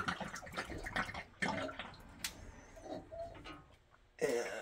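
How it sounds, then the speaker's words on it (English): Leftover water drains and splashes from hoses disconnected during descaling, a messy, uneven trickle with knocks and clatters of handling, fairly faint and close. "We'll get a little bit of, you know, drainage from any of the water that's left over there"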